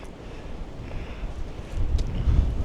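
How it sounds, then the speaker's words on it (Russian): Strong wind in the German countryside buffets the microphone in a steady low rumble, growing heavier and gustier toward the end, with no voices. "Ветер сильный поднялся"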